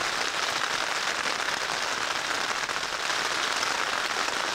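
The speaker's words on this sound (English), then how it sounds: "And it's raining again." Dense, steady patter of rain drums on a taut tent overhead at the Arctic Circle, a constant hiss with no voices.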